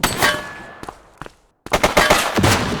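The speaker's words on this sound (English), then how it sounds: "He's shooting!" A suspect's gunfire in the police video game The Precinct: rapid, loud bursts of shots in two clusters separated by a brief silence, with metallic clanging and no talk.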